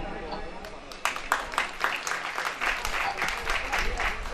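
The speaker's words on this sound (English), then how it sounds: "Can I expect a louder clap, please?" Audience clapping at a college cultural fest inauguration after a lamp lighting ceremony, starting with a few sharp claps and building into fuller, uneven applause across the hall.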